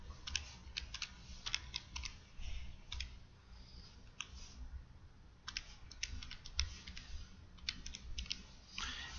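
Numbers keyed into a calculator in quick, irregular bursts of small plastic clicks, close and fairly quiet, with short pauses between runs of presses and no talking.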